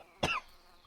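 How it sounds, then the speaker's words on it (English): A single short, close cough bursts out once and then fades into quiet room tone. "I hope you get that cough checked out, Mama."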